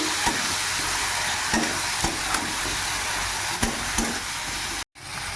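Marinated vetki fish is mixed and fried in a pan, giving a loud continuous sizzle with sharp scraping stirs at irregular intervals and a brief cut to silence near the end.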